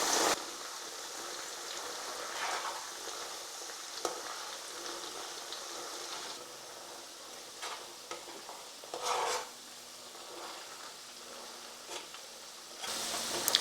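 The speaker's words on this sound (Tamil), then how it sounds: "இப்போ பார்த்திங்கன்னா முன்னாடி இருந்ததோடைய அந்த சலசலப்பு சத்தம் வந்து கொஞ்சம் குறைஞ்சிருக்கு" Herbal paste for homemade hair oil frying in oil on low heat, giving a steady soft sizzle and crackle, with occasional louder clinks and scrapes as it is stirred.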